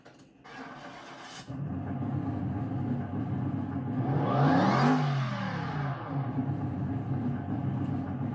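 A car engine starts, then idles and runs steadily, swelling briefly as it revs before settling back to a constant hum nearby.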